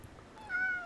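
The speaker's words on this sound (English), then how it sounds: "That's my cat." A house cat gives a single short meow, close and moderately loud, rising into a drawn-out tonal cry in the second half, with no speech.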